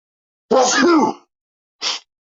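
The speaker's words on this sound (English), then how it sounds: "Do excuse my sneezes." A voiced, moaning sneeze, followed by a short, sharp breathy burst after a brief pause, close and loud.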